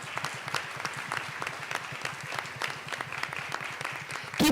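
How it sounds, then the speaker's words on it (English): An audience at a campaign event applauds steadily after a congresswoman is introduced, a continuous patter of many hands clapping with a sharper burst right at the end. "Everyone put your hands together for Congresswoman Sheila Jackson Lee."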